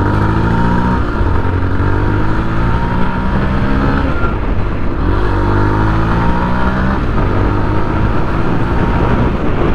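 2024 Yamaha FZS V4 motorcycle accelerating hard in a performance run, the engine climbing through rising revs with upshift dips near two and five seconds, loud, close and continuous.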